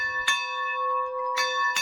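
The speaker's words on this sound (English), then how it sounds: "Those are train engine bells coming from the roundhouse." Train engine bells ringing in a roundhouse: a steady, sustained metallic tone with three sharp strikes, close and clear with nothing else around it.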